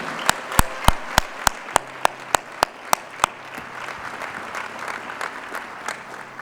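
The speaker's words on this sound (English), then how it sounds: "Another round of applause for all of our outstanding student award winners." An audience applauds student award winners at a Central Illinois high school recognition ceremony, with crisp, regular claps through the first half that thin into scattered, fading clapping.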